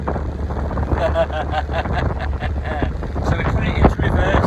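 Gusty wind buffets the microphone on a narrowboat on a canal, a rough rumbling rush that rises and falls under someone speaking.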